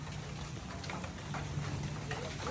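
Heavy rain pours down outdoors as a steady, dense hiss that holds at an even level throughout, with no other clear sounds on top.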